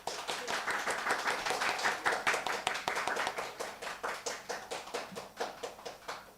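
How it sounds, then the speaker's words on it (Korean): Steady applause from a congregation fills a church, continuous rapid clapping that swells then gradually thins out toward the end. "우리 응원의 박수 한번 크게 우리 이호철 집사님께 드리겠습니다."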